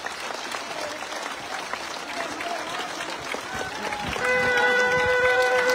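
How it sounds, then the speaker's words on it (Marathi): A crowd at a welcome rally for Maratha leader Manoj Jarange Patil in Beed claps continuously, a dense steady roar of applause that swells louder toward the end, with a tonal sound entering late. "दादांसाठी 1 मिनिट सतत टाळ्या वाजवायच्या"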